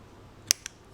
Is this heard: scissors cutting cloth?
yes